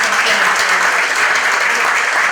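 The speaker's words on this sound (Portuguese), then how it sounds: "uma salva de palmas para o continue" Dense, loud audience applause at a medical council anniversary event for a COVID-19 vaccination campaign, a continuous wash of many hands clapping for a couple of seconds with no speech over it.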